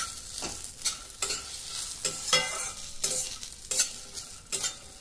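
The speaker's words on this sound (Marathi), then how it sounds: "अर्धा कप ओला नारळ, हे सर्व एक मिनिट भाजून घेऊया." Grated fresh coconut and other ingredients dry-roasting in a pan for uttapam, with a spatula scraping and stirring in repeated strokes over a light sizzle, close up and without talk.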